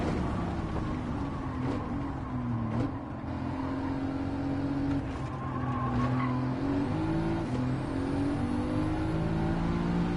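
A racing car in Gran Turismo 7 driving across a bridge, engine droning and shifting pitch steadily with tire squeals and skids, loud and continuous throughout.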